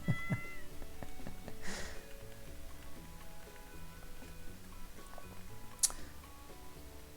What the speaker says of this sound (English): little Catty, you be a good kitty.